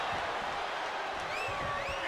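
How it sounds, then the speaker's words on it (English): A wrestling arena crowd at a live WWE match roars and cheers in a loud, dense, continuous wash of noise for a couple of seconds. "Listen to this crowd."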